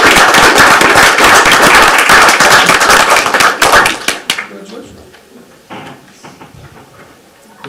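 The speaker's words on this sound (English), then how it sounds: "So another round of applause for our honor band members" An audience at a school district board meeting applauds its honor band members, the dense clapping loud and close for about four seconds before it breaks into scattered claps and fades out.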